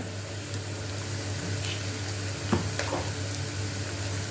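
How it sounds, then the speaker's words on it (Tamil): Onions and curry leaves fry in a pan for taro root kulambu, giving a continuous even sizzle with a few faint clicks of stirring and a low steady hum underneath, close by and without speech. "கொஞ்சம் கருவேப்பிலை கொஞ்சம் வெங்காயம் வதங்கட்டும்"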